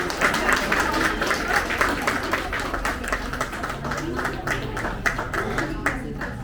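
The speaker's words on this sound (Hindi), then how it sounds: "जोरदार तालियां जी को भाई सभी बच्चों के लिए, जोरदार तालियां" Crowd at a children's art prize event claps for the young winners, a sustained patter of many hands ringing out fairly close, with murmured voices underneath.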